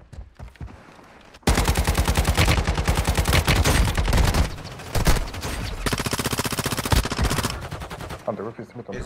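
Sustained automatic gunfire in the mobile shooter Warzone Mobile, loud rapid bursts starting abruptly after a quiet second and hammering on with brief gaps, close and dominant throughout.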